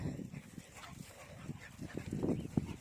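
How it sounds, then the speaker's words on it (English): Dogs romping in a muddy, waterlogged paddock, with scattered soft barks, whimpers and splashy movement sounds close by over a steady outdoor background. "The dogs love playing in here because it's generally muddy and full of water."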